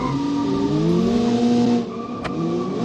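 Race cars in the video game Automation launch together off the start line of a folk race, a loud close blend of engines revving and climbing in pitch, with a short squeal near the end.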